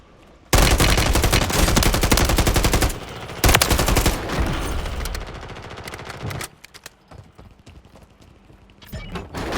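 Rapid automatic gunfire in the video game Warzone, aimed at the player. Loud, close bursts fire almost continuously, pause briefly, resume, then thin into scattered shots and fade toward the end.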